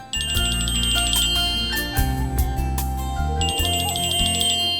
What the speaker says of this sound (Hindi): अर्जुन की बात कर रहे थे, उसका फोन आ गया।